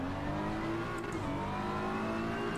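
A BMW race car in a racing game holds a steady engine drone at constant revs, a continuous buzzing whine with no breaks, heard alone without speech.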